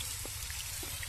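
A little water is poured onto rice chitoi pitha cooking in a pan over medium heat, making a faint, brief trickle above a low background hum.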